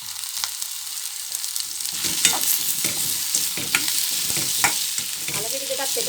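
Two chopped potatoes added to a pan for Sri Lankan cabbage tempering, frying with a steady sizzle while a spoon scrapes and stirs in repeated clacks close by, with no talking.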